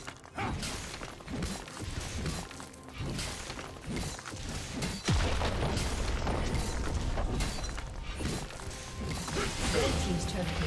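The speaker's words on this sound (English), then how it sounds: "Blue team's turret has been destroyed." A turret collapsing in League of Legends, a heavy boom and crumbling crash partway through, heard over game music and combat noise while an announcer voice speaks.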